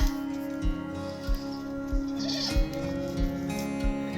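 Miniature goats bleat with a sustained, droning call, repeated low thumps pulsing steadily beneath it, close and fairly loud.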